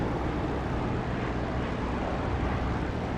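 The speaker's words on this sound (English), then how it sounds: "Just listen for the increased volume as we get reflected sound off the runway." Aircraft engine in DCS flight simulator during a landing approach near the runway, a dense, loud, steady roar with wind-like rush and no distinct changes, heard alone without voices.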